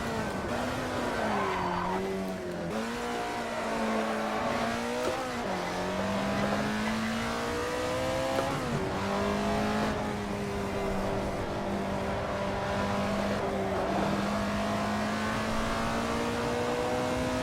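An Alfa Romeo 33 Stradale old racing car in Assetto Corsa at Laguna Seca runs continuously, its engine note rising and dropping through gear changes with tyre squeal and skidding through corners, loud and steady throughout.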